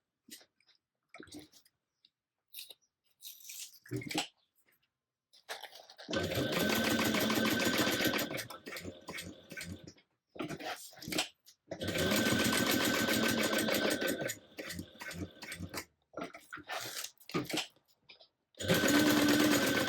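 A sewing machine stitches through tote bag webbing, main panel and pocket panel in several loud bursts of rapid, steady whirring, separated by pauses with handling clicks and quiet rustling.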